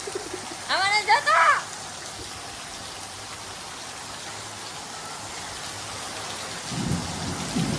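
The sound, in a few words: heavy rain with thunder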